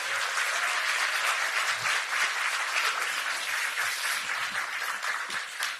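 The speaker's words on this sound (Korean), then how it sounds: "여러분 큰 박수 부탁드립니다" A crowd at an election campaign committee launch rally in Seoul applauds steadily and loudly, a dense, sustained clapping that holds for several seconds before starting to thin out at the end.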